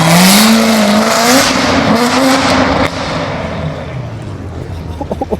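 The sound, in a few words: loud Corvette engine revving past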